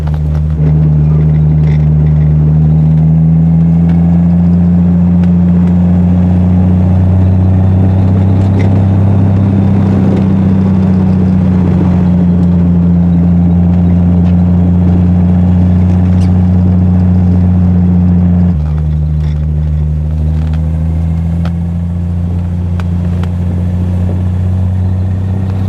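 A Triumph TR6 engine drones steadily while the car cruises in third gear at about 30 mph and 1,800 rpm, a loud, even low rumble with a brief dip near the end and no talking.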